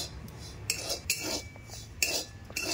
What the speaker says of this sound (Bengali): সুজিটা দিয়ে কড়াইয়ের মধ্যে হালকা একটুখানি করে ভেজে নেব